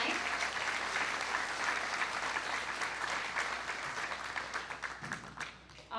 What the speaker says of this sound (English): just one more hearty round of applause for these kiddos